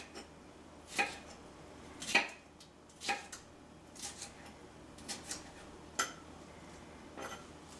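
A knife slices fajita vegetables on a board in a kitchen, a handful of sharp separate cuts and taps spaced about a second apart, close and fairly quiet.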